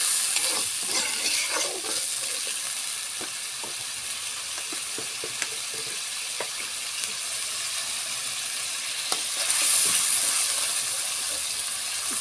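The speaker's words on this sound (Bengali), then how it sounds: "সুন্দর করে একটু নেড়ে দেবো" Spatula scrapes and clacks repeatedly against a pan while frying ginger, onion and garlic masala is stirred, the steady sizzle running underneath and swelling into louder hissing near the end.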